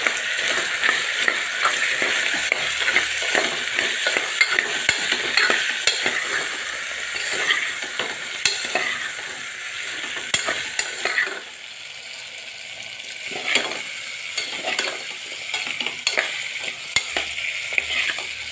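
Potatoes with chili powder, turmeric and salt sizzle and fry in a pan for a methi-potato curry, with continuous crackling and repeated scraping strokes of a spoon stirring throughout.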